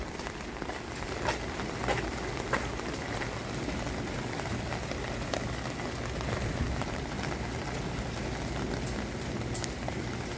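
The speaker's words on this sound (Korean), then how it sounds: "비가 오고 있어요." Steady rain pours down in a dense, continuous hiss with scattered louder drops pattering on surfaces, close and even throughout with no voices.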